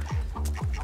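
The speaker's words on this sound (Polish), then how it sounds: "Cicho, kury, płoszysz." Hens cluck close by in a short farmyard burst, three quick descending clucks with a faint higher squawk between them, no talking over them.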